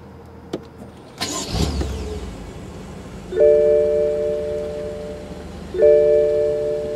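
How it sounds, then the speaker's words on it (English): A 2014 BMW M6 Gran Coupe's twin-turbo V8 fires up with a push-button start, giving a short, loud burst that settles into a low idle. Two clear electronic chime tones sound during the idle. "Beautiful sound from that twin-turbo V8."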